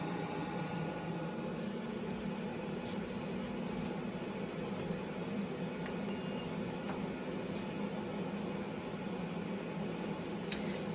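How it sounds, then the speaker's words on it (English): An air fryer runs at 400 degrees on backup battery power, giving a steady, continuous fan whir and hum with a faint tonal whine, alone throughout, plus a couple of brief faint clicks. "Okay, so we have the air fryer on 400."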